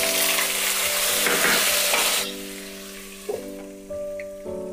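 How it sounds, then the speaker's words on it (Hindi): Onion paste hits a hot pan and fries with a loud sizzling rush for about two seconds, then settles into a quieter simmer with a couple of brief stirring knocks, no talk. "अब हम इसमें डालेंगे प्याज का पेस्ट"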